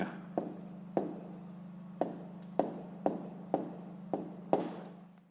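Numbers written by hand on paper, heard as about nine crisp, quiet pen strokes and taps at an uneven pace over a steady low hum.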